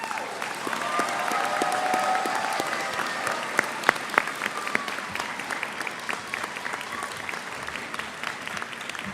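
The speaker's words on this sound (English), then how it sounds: "Would you please give everyone who sets this place up a round of applause?" Convocation audience at a summer graduation ceremony on a campus in Penticton applauding in steady, moderately loud clapping with distinct individual claps standing out, sustained throughout.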